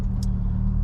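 Toyota MR2 with a swapped 1.8T engine cruising on the road, a steady low engine drone and rumble heard from inside the car, continuous and fairly loud over the short stretch.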